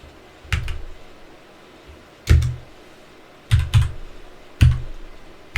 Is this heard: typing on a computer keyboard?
yes